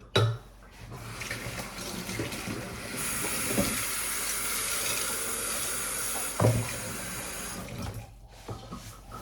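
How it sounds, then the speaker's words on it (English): Vintage crystals rinsed one at a time under a running tap, a steady rush of water into a sink with a couple of soft clunks of the pieces, starting and stopping abruptly. "Now let's dump the water. Rinse it 1 at a time."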